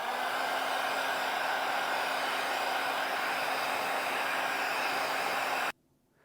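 A dryer blows over heavy filler spread on a leather repair, giving a steady, loud rushing whoosh with a faint constant hum beneath. It runs unbroken for several seconds, then cuts off sharply.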